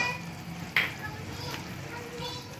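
Beef being fried in a karahi with tomato paste gives a soft, steady sizzle with a few sharp spatters and stirring scrapes.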